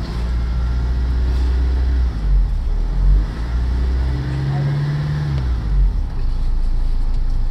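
Car engine rising in pitch as it speeds up, a loud close hum with shifting tones and a strong low rumble, while a voice talks over it.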